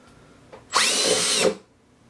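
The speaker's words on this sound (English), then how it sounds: "now that the holes are drilled" A power drill boring a hole for a panel fastener in a DIY stripping basket, a brief loud whirring burst of under a second that starts and stops abruptly, with a small knock just before.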